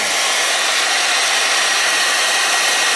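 A hair dryer running on an off-grid power system runs steadily and loudly, a constant whooshing hum of blowing air with no change throughout.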